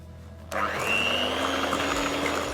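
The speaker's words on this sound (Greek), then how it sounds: "Τώρα θα αρχίσουμε να το χτυπάμε σε μεσαία ταχύτητα για λίγα λεπτά μέχρι να γίνει αφράτο" An electric mixer switches on abruptly and runs at a steady medium speed, beating butter and vanilla cake batter for a gluten-free polenta cake, with a loud, even whirring drone that holds for the rest of the clip.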